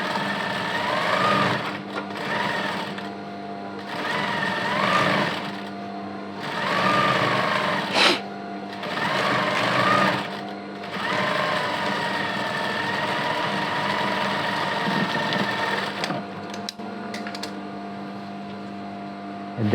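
A sewing machine stitches a double seam on a petticoat waistband, running in short bursts of about two seconds with brief stops, then in one longer unbroken run over a constant motor whine.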